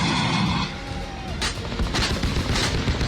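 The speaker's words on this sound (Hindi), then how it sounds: "गोलियां बरस रही हैं, लेकिन नॉर्दर्न अलायंस के हमले से मजबूर होकर तालिबान पीछे हट रहा है।" Gunfire and artillery from fighting between Taliban and Northern Alliance forces, a dense barrage of overlapping booms and bursts, loud and continuous, with no talking.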